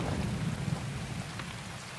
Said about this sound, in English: I can't see because of this fucking rain